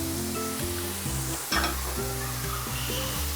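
Lemongrass and chili powder frying in a pan while being stirred, a steady close sizzle with a low humming tone running throughout and a brief scraping burst near the middle.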